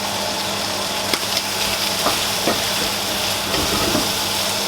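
Squirrel meat frying in a pan with cumin, smoked paprika, turmeric and curry powder gives a loud, steady sizzle and hiss, broken by a few soft clinks and stirring scrapes, with no talking.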